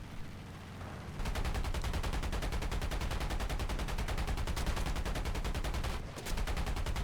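Rapid, sustained bursts of aircraft machine-gun fire from a Wildcat fighter in the War Thunder video game, a dense, loud rattling stream starting after a second and continuing almost unbroken with one brief pause near the end.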